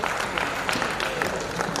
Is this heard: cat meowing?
no